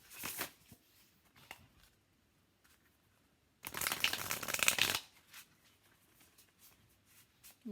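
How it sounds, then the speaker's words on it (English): Tarot cards are shuffled by hand in one dense rustling burst of about a second, close and clear in an otherwise quiet room, with a few faint taps and handling sounds around it. "Let me go ahead and shuffle 3 times."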